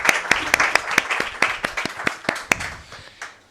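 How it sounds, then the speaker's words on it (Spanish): Scattered clapping from a small audience at the end of a talk, distinct individual hand claps in an uneven rhythm, fairly close, thinning out and stopping after about three seconds. "os pido un fortísimo aplauso"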